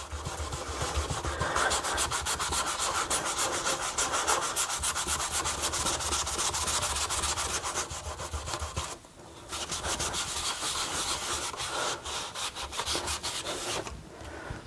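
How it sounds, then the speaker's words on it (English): Steady, vigorous scrubbing of a Scotch-Brite pad over laser-engraved metal, a continuous rough abrasive rasp with one short pause before the rubbing resumes, loud and close with no voices. "I've got a Scotch-Brite pad. I'm going to rub it on here."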